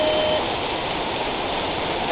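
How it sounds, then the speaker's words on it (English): Heavy rain beats down on a pickup truck during a mountain storm, a dense, steady hiss of pouring water with no pauses. "Look at this rain just beating down. That is heavy, heavy rain."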